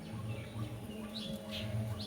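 Sparrow chicks hatched in a nest among the leaves of a bitter gourd vine give faint, high chirps that come and go over a steady low background hum.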